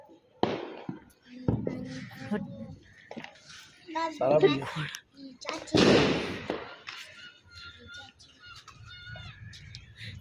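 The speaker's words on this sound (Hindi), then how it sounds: "लोग पटाखे क्यों फोड़ रहे हैं?" Firecrackers burst outside in sharp, scattered pops and crackles, some loud and some distant, amid lively conversation and laughter indoors.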